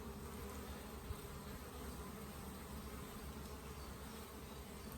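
Honeybees swarm around crowded nucleus hives, giving a dense, continuous buzzing hum that stays steady and loud throughout with no talking.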